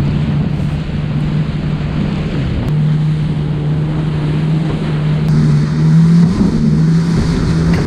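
A Yamaha Waverunner FX jet ski roars steadily over bumpy Gulf water near the Withlacoochee River mouth in Florida, its engine drone loud and close with heavy wind buffeting and water splashing throughout.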